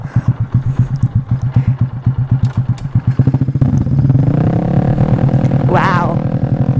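A motorcycle engine runs close by with a steady, pulsing idle, then rises into a smoother, louder drone as the bike pulls away and picks up speed.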